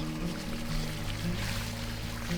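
Water from a natural swimming pond pouring and splashing during rinsing, a continuous close rush over a steady low mechanical hum, likely from a pump.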